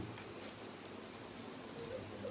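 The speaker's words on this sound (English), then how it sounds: "Now it's raining." Steady rain falls outdoors at a retreat in Kunhegyes, Hungary, a continuous soft hiss of drops hitting surfaces, fairly quiet and unbroken, with no talking.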